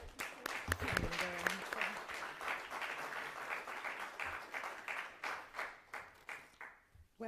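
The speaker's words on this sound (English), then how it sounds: "Let's give a round of applause to the Secretary" Round of applause in a formal congressional hearing room, steady clapping from an audience at moderate distance, fading toward the end with a brief voice at the start.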